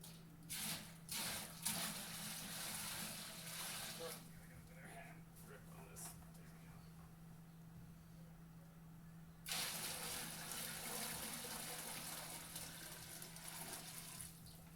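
Tap water gushing into a home-brewing vessel on brew day, a steady close rush with a low hum beneath, pausing briefly before flowing strongly again, with a voice speaking over it.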